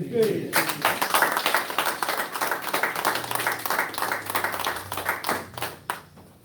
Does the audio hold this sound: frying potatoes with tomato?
no